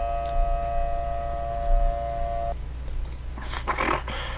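A siren in a Siren Head video game holds a steady droning tone for a couple of seconds, then cuts off and gives way to scattered noisy bursts.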